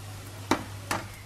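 Pancake fritters cooking in a dry frying pan in a home kitchen, a low steady hum under two soft, brief scraping knocks like a spatula against the pan, faint and close.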